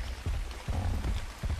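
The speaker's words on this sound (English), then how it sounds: "It's raining." Rain falls steadily in the video game ARK: Survival Evolved, a dense hiss with a few heavier low patters over about a second and a half, with no talking.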